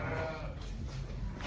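Sheep at a farm pen bleat against a steady background of rumbling noise, their calls moderately loud and mixed together rather than clearly separate.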